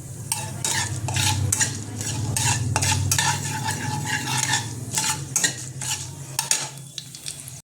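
Diced potatoes frying slowly in a pan for khichuri, with a spoon stirring and scraping against the metal in repeated rhythmic strokes over a continuous close sizzle, no voices.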